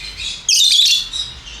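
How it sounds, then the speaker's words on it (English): Birds chirp outdoors in a short burst: a bright cluster of shrill tweets, fairly close, with a fainter chirp trailing after over quiet background. "you hear the birds chirping"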